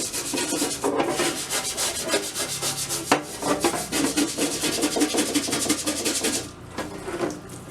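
Rust is sanded off a vintage metal tackle box with quick, rhythmic back-and-forth scraping strokes. The strokes are close and steady and run almost without a break for several seconds before easing off.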